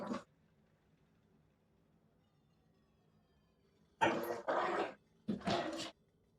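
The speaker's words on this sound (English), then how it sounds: "These dogs are going mental." Dogs bark in several short, loud bursts close by, a clipped yelp at the start and then a cluster of rough, agitated barks after a long quiet gap.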